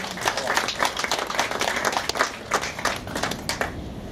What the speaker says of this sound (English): let's have a round of applause for John from Coraleo